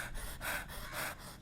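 A voice imitates panting, producing three or four quick, breathy gasping puffs in an even rhythm, close and fairly soft, with no other sound around it.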